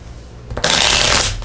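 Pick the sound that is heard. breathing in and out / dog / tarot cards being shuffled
tarot cards being shuffled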